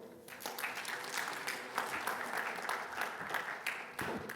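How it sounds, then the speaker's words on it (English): An audience at a Mumbai summit on skills and entrepreneurship claps continuously, a dense, fairly faint patter of many hands with a few louder swells, no one speaking over it. "Please do not stop clapping."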